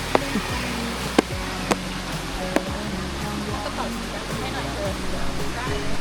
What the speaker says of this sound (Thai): นั่งอยู่ใกล้ชิดกับน้ำตกมากๆเลยเลย